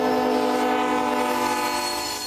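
A train horn blares loudly and continuously near homes in East Nashville, a steady sustained blast with rumbling rail noise underneath, no voices.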